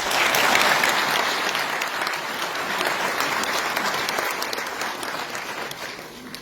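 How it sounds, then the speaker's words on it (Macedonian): An audience at a film event bursts into dense, sustained applause that starts strong and slowly thins and fades over several seconds. No voices are heard. "Еден аплауз за вас, молам"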